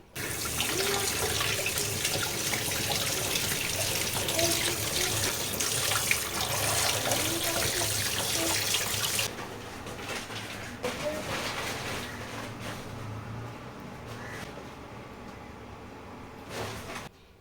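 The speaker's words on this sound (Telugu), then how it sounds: "ఈ చికెన్ని నీట్గా వాటర్తో అయితే వాష్ చేసేద్దాం" Running water pours steadily for several seconds, then drops to a softer trickle with occasional splashes, as raw chicken is rinsed under a tap.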